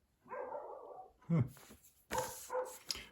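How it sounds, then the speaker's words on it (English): A dog barks several times, a few sharp yips and a louder bark in quick bursts, heard close by in an indoor room, with a person speaking softly in between. "So let the dog bark."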